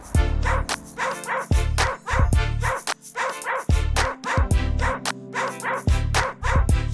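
Dogs bark repeatedly at an outdoor adoption event in Griffith Park, loud close yaps and bow-wows in a rapid, uneven rhythm with some whimpering between bursts.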